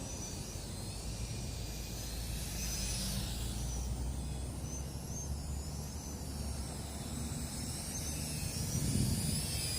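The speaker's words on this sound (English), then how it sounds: "Really nice looking drone." Snaptain SP660 drone flying at night, a steady high whining buzz of small propellers holding constant throughout, with a low background rumble and no talking.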